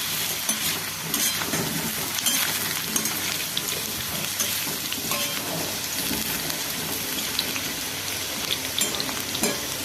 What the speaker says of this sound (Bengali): আলু একটু লাল লাল করে ভাজবো।